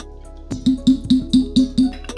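Butter-washed bourbon pours through cheesecloth in a rhythmic series of about seven close, clear wet drips and splashes, one every quarter second, with no talking.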